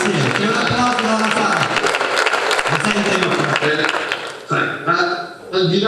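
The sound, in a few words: applause from the audience in the hall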